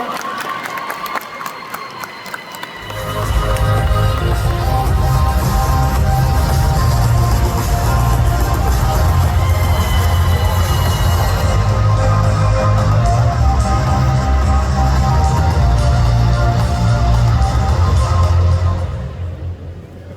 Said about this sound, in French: Je vous demande d'applaudir et de crier